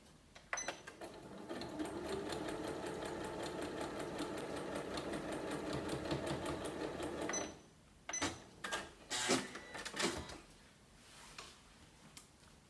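A sewing machine stitches a fabric table mat in a fast, even run of needle ticks for several seconds, stops, then sews in short bursts with pauses between them, close up and with no talking.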